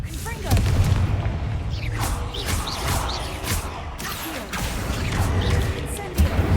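Confringo fire-blast spells in Hogwarts Legacy go off as a run of booming, crackling blasts, several loud hits spread across the stretch over steady game background noise, with a voice speaking at times.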